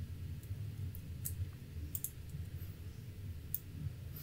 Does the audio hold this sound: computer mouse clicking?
yes